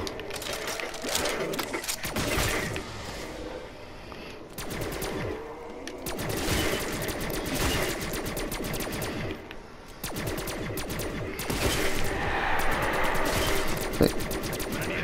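Short, rapid bursts of automatic gunfire in Call of Duty Zombies on the Der Eisendrache map, rattling in clustered volleys with brief pauses between, layered over game ambience and music.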